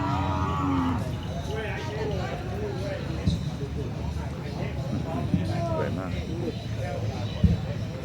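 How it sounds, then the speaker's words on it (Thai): Cattle moo repeatedly at a Thai cattle contest held at an army camp, with a low, drawn-out lowing near the start, amid steady crowd chatter and nearby voices. "ไอวัว ไอ่วัว"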